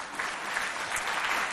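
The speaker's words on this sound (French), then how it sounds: "On applaudit le médecin qui est là," An audience applauds a doctor introduced at a school event, a steady wash of many hands clapping at moderate volume with no voices over it.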